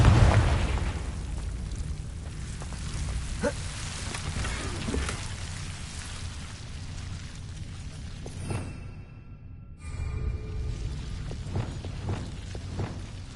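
A Confringo explosion spell in a Harry Potter video game: a booming blast at the start fades into a long, rumbling crackle with scattered pops, and a brief drop in sound comes near the end.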